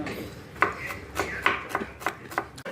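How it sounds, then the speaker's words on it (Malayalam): A knife chops onions on a board with about eight crisp, fairly regular chops, close and fairly quiet. "കുറേ വർഷമായിട്ട് സവാള മുറിച്ച് ഇങ്ങനെ എക്സ്പേർട്ടായതാണ്"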